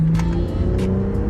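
A BMW M240i accelerates hard on a road test run with newly fitted paddle shifters, its engine rumbling loud and close with a rising tone and a faint voice briefly audible under it.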